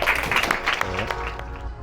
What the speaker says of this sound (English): y'all give Mr. Jackson a round of applause